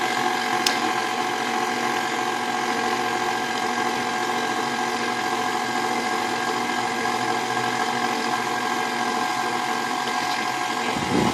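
A stand mixer kneads French bread dough with a steady, loud motor hum and a constant mechanical drone that runs without a break and stops at the very end.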